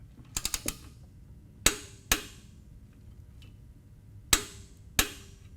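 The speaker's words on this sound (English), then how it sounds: "take our torque wrench and 5/8 inch socket and finish" Torque wrench with a 5/8 inch socket tightening the oil drain plug on a Harley-Davidson motorcycle, a quick run of four ratchet clicks followed by two pairs of sharp, louder clicks, close and alone.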